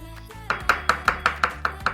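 A kitchen knife chops mushrooms on a cutting board in a quick, steady run of about eight crisp taps, close and clear with no talking.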